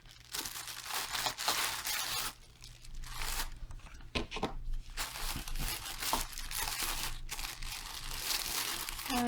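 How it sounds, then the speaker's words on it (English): Plastic pocket-letter sleeves holding cards crinkle and crackle while handled, in bursts of close, papery rustling with short pauses between them. "Sorry for the crinkles"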